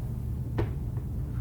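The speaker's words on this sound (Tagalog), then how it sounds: "may narinig akong parang may nagbukas ng cabinet sa kusina" A kitchen cabinet door opens with one short wooden knock-and-creak, followed by a faint second tap, set over a low steady hum in a quiet night-time house.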